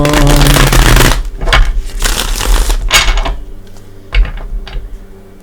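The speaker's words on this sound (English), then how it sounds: "One more shuffle." Cards are shuffled in quick riffling bursts, loud and close, with pauses and a soft tap between rounds.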